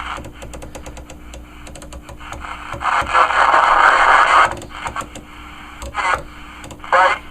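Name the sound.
scratchy CB radio reception on channel 28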